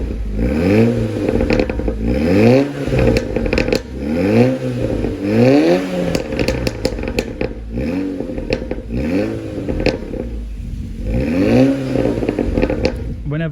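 A VW Golf GTI Edition 30 fitted with a rare exhaust and sport cat revs repeatedly, rising and falling blips in a steady rhythm, loud and close with crackles and pops between revs.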